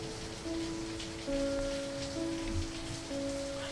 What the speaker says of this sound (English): it's raining in the game now